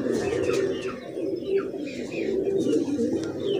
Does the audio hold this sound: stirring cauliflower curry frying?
no